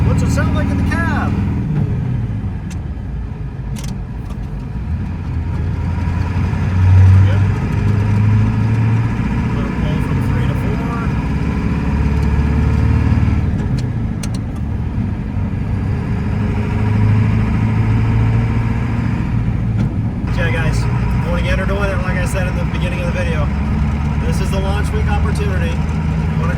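Cab interior of a 1994 Ford F-350 with a 7.3 Powerstroke diesel and manual transmission, a steady low diesel drone that rises and falls as it works through the gears, with someone talking over it.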